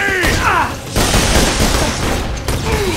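In Borderlands 2 on Pandora, a grenade blast bursts amid rapid gunfire, with dense booming shots and explosions packed close together, loud and near, while a voice speaks briefly at the start and end.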